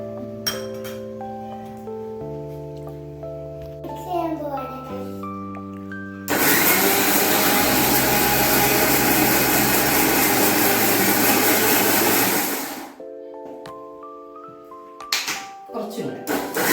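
A mixer grinder whirs loudly and steadily for about six seconds while blending chicken marinade with fresh cream, set between stretches of background music and talk.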